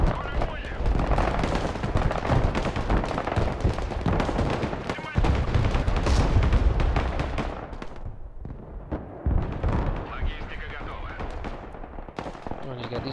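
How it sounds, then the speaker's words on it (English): Artillery and heavy gunfire from the Broken Arrow war game on the Parnu map: dense rolling barrages of booming blasts and rapid machine-gun bursts, loud and continuous, thinning toward the end with scattered shots. "Engaging this tree line with artillery."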